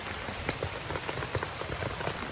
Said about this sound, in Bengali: বৃষ্টি পরে এখন পর্যন্ত থামে না, এ থামবে কবে আর কোনো গ্যারান্টি নেই